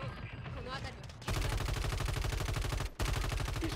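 Rapid video game gunfire, a fast, loud, rhythmic burst of shots that cuts in after a muffled opening, pauses briefly and resumes, with a voice heard early on.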